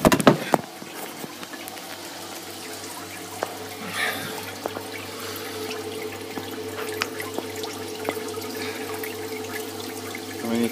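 Liquid runs from a homemade all-grain beer making machine in a steady, continuous flow like a tap filling a vessel, with a few faint clinks and a sharp knock at the start.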